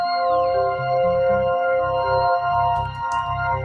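Spitfire Labs Ondes Musicales, a recreation of the early electronic ondes Martenot, sounds a smooth sustained gliding tone with rich steady harmonics over a soft pulsing low accompaniment, alone and close.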